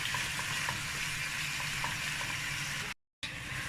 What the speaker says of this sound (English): So I will put all like this and fry in small fire.